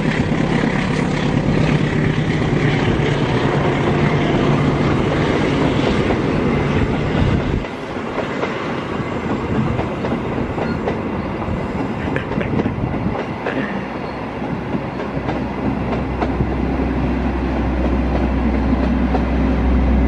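A train rolls along the rails near Cipendeuy, West Java, with a steady loud rumble and clatter that dips briefly midway and then builds into a deeper low roar toward the end, with no talk.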